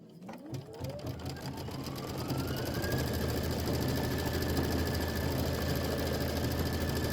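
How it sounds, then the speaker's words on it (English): A Kimberbell embroidery sewing machine stitches star quilting on the blue fabric of a mug rug. Its motor whirs up in pitch, then settles into a steady, close, continuous stitching rhythm with no talk. "It's going to do star quilting on the blue part."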